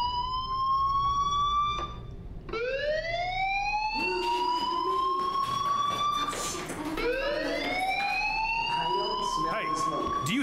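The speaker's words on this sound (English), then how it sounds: "Hey, do you hear that fire alarm?" A fire alarm rings inside a video game, its electronic tone sweeping upward again and again over several seconds, loud and close, with sharp breaks between the sweeps.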